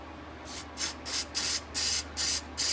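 Electronics cleaner sprays from an aerosol can in seven short, close hissing bursts at a steady rhythm, with brief silences between them.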